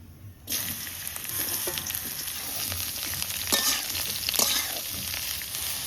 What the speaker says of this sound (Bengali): সর্ষের তেল দিয়ে দিই কড়াইতে, গরম তেলের মধ্যে কয়টা কালো জিরে দিয়ে দিচ্ছি